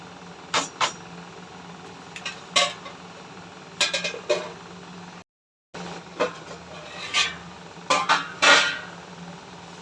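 Crushed garlic goes into a pan while omakka payar thoran cooks, heard as scattered metallic clinks and scrapes of a spoon against the pan over a low background hum, with a brief dropout midway.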